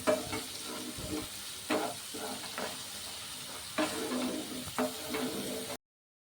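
Egg curry base with chilli powder stirred as it fries in a pan: a continuous close sizzle broken by repeated scraping strokes and soft knocks of the spoon, then a sudden cutoff.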